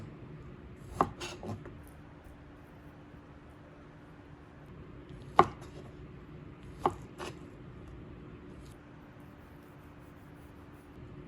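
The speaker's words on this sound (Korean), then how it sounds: "그럼 이제 이걸 썰어서 한번 먹어보도록 할게요" A knife cuts through a fillet of aged yellowtail amberjack in a few sparse, faint taps against a cutting board, separated by long quiet gaps.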